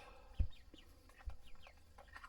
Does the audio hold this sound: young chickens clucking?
yes